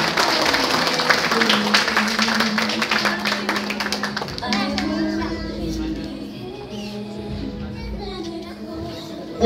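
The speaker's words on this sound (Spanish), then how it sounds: "¡Aplaudamos por esta decisión que tomó Lorena!" A wedding reception audience applauds and cheers for the bride Lorena, with dense clapping in the first half that thins out as voices and music-like tones carry on underneath.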